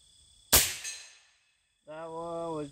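One sharp, loud airgun shot fired with FX hybrid pellets, its crack fading into a short echo; a person then speaks briefly.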